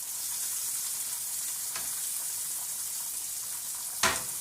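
Shrimp sear in a frying pan as a steady, soft, high sizzle, with a couple of brief louder crackles and no talking.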